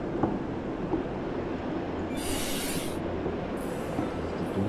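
A Martian sandstorm in the video game Occupy Mars roars as a steady, dense rushing noise, with a brighter hissing gust swelling midway and shorter ones later.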